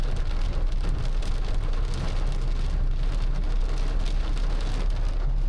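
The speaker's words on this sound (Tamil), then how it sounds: "ஸோ சரியான மழை, ஒரு மணி நேரமாக வந்து மழை வந்துட்டுருக்கு." Heavy rain pours down in a dense, constant roar, pattering steadily on surfaces nearby, with no voices.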